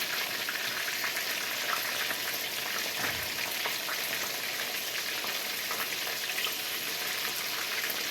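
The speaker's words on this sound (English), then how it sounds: "I don't want to get burnt with the hot grease because it is popping" Hot grease popping and sizzling as beer-battered catfish and shrimp fry, a dense, steady crackle of tiny pops throughout, close and loud with no talking.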